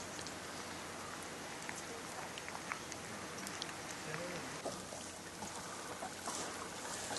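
Rain falls steadily outdoors in Alaska, heard from shelter under a rock overhang. The patter is soft and even, with scattered drips and a constant hiss throughout.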